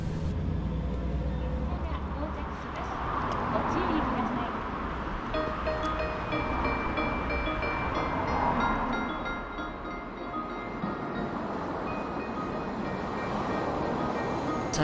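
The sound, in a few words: train arriving at station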